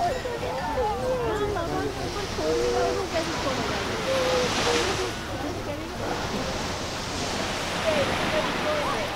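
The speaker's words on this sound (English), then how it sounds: "while the tide slowly rolled in, we enjoyed the beach and the sun for a few hours." Surf washes steadily onto a Scottish beach as the tide rolls in, a loud continuous rush of breaking waves close by, with gusts of wind across the microphone.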